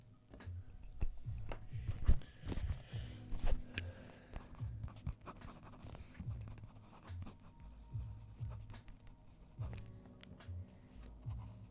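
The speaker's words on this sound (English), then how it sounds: "I'm gonna get back to writing now." A pen writes on paper close up and quietly, giving soft, intermittent scratching strokes in short bursts separated by brief pauses.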